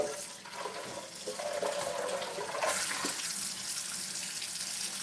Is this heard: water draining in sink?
yes